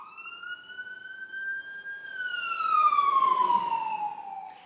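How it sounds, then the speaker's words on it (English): A fire engine siren wails as it passes on a nearby road, a long rising tone that then sweeps down, growing louder toward the end with traffic rumble beneath. "So whenever they go by, we have to deal with the sirens."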